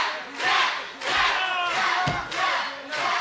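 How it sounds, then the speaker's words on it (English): At a wrestling championship match, the arena crowd cheers and shouts in loud, swelling waves that rise and fall several times, dense and continuous. "Listen to this crowd."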